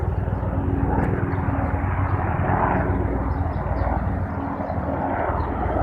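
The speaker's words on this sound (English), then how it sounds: "Can you hear the helicopter?" A helicopter drones overhead, a loud, steady engine and rotor roar that swells slightly and fills the whole stretch without any talking.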